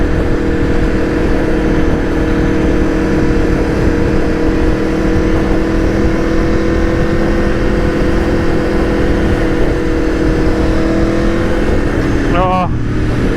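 An Aprilia Tuono V4 1100 motorcycle drones loudly and steadily while being ridden, a dense engine hum with heavy wind rush throughout and a brief stuttering blip near the end.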